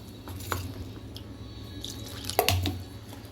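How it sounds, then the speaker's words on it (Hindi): Water is added little by little to a sabji mixture of arbi leaves, heard as a few short, quiet splashes and drips against a soft background hum. "थोड़ा थोड़ा पानी डालकर इसे मिक्स कर लेना है।"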